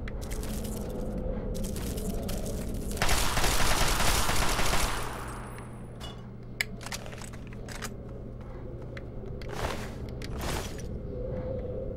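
Gunfire in the Fallout 3 video game arrives as a dense burst of rapid shots and metallic clatter, followed by scattered single cracks and clicks over a steady low in-game hum.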